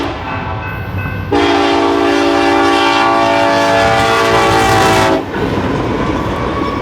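GE Evolution freight locomotives leading a southbound train on the Fort Worth Sub, a loud sustained multi-note horn blast of about four seconds over steady rolling rumble and rail noise, close by with no talking.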